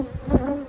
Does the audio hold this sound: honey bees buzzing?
yes